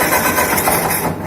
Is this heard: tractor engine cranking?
yes